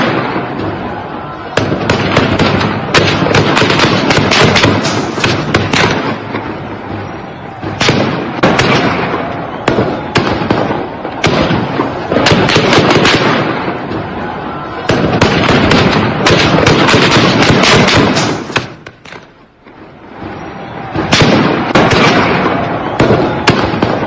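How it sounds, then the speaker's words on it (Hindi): Rapid bursts of gunfire during street protests in Iran, loud, dense cracks and pops repeating in clusters with short lulls, echoing through the streets across the whole stretch. "सड़कों पर गोलियां चल रही हैं"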